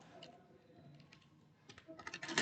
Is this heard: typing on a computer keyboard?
yes